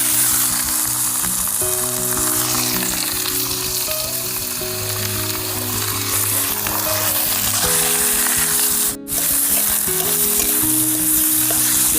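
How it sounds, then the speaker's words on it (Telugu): Chicken frying in ginger garlic paste in a hot pan gives a loud, steady sizzle that runs continuously, with stirring scrapes and one brief dip partway through. "అల్లం వెల్లుల్లి పేస్ట్ బాగా ఫ్రై అయింది. ఇప్పుడు దీంట్లో చికెన్ వేసుకుందాం."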